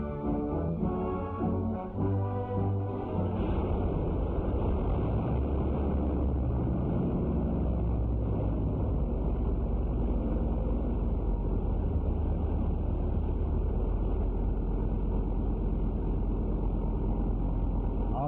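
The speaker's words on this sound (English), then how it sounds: "In a heavily insulated room, it is hooked up to controls and run continuously for 10 hours." A military aircraft engine runs continuously on a test stand in a heavily insulated room. Some tonal whine at first gives way to a loud, steady, unbroken roar.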